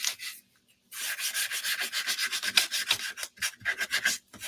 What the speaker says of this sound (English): and then sandpaper.